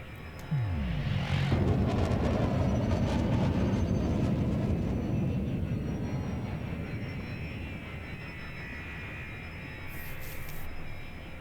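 A spaceship engine boosting in the space game Elite Dangerous, a loud roaring whoosh that swells quickly and holds as a broad rumbling thrust, slowly easing off with no talk.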